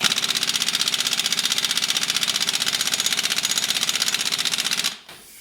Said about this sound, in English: Deep dish wheel, impact, big old extension, reaches up, got this thing in reverse.